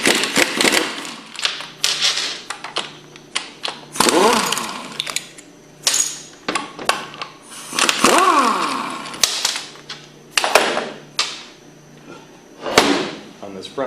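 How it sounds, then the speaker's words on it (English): Front housing of a Hypro centrifugal pump removed with a 9/16 socket: close metallic clanks, ratcheting bursts and clunks of parts being set down, irregular and fairly loud, with someone talking between them. "We'll start by removing the front housing with the 9/16 socket."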